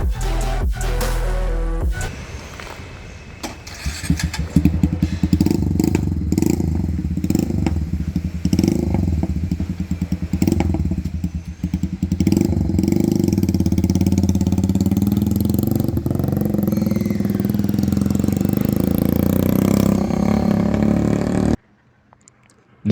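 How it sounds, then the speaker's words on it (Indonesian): A carbureted Kawasaki W175 classic motorcycle with an aftermarket exhaust runs close by, idling with a rough, throaty thump and blipping the throttle a few times before the engine cuts off abruptly near the end. "Terus kalau lu pinter milih jenis knalpot, suara mesinnya itu keren loh"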